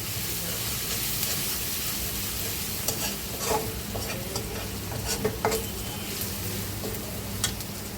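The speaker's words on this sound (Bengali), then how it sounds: "তেলের মধ্যে রসুনটাকে একটু হালকা ভেজে নেবে" Garlic fries in oil in a home kitchen, giving a steady close sizzle with occasional sharper crackles and stirring clatters throughout.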